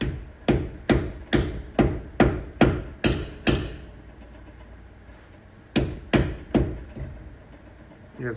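A hammer strikes a socket again and again to drive out a pilot bearing packed with bread. The loud, close metallic blows come in a steady rhythm of about eight hits, then a pause, then another short burst of four.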